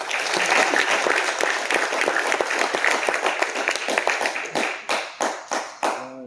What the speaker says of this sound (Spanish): Vamos a darle un aplauso, hermanos.